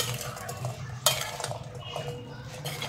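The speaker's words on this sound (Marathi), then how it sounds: "सगळं मिक्स करून घेतो गरम गरम" Hot cabbage manchurian is tossed in a pan with a metal spoon, producing close scraping and clanking against the pan, one sharp knock near the start, and a faint sizzle underneath.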